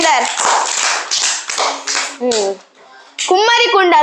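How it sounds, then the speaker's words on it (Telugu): Children clap quick, scattered taps in a classroom for Varun and Upender, while young voices call out and sing over the clapping. "claps for Varun and Upender"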